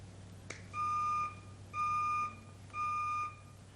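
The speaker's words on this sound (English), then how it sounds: "The alarm goes off." An alarm clock sounds three evenly spaced electronic beep bursts, each about half a second long, clear and close over a quiet room hum.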